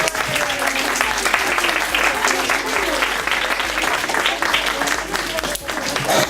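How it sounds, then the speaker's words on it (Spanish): An audience at a school book presentation breaks into sustained, dense applause, loud and close, continuing steadily throughout with a few voices mixed in. "un aplauso entre todos"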